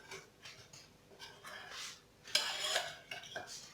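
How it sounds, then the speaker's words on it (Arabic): Ingredients are mixed with milk in a bowl for a lemon tart, with faint close stirring, scraping and light utensil clinks in an irregular rhythm. A few sharper taps stand out near the end. "غنضع ربع لتر حليب، خلط المكونات ديالي مزيان."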